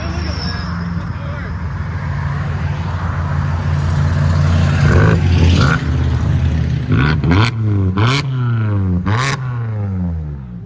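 2012 Kia Optima 2.4L fitted with a Carven R-Series exhaust, a loud close exhaust drone that builds over several seconds before a few sharp rev blips near the end, with voices talking over it.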